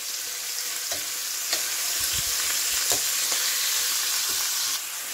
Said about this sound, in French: Je vais ajouter l'ail et l'oignon. Je vais faire revenir à feu vif.